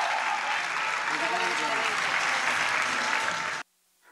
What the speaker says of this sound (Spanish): Recibamos con un fuerte aplauso a Francisco Corral